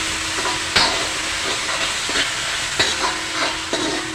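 Onion and tomato frying together for Maharashtrian misal over a fairly high gas flame, giving a steady close sizzle with a few sharper stirring clicks and scrapes and no voices.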